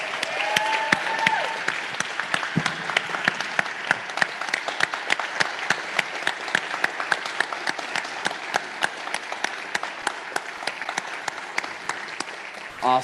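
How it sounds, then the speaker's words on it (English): Audience applause at a general session of the Purpose Summit 2021 conference, sustained and fairly even clapping from a moderately sized room that continues for over ten seconds at a medium distance, with a few voices faintly audible beneath it. "Can we give these guys one more round of applause?"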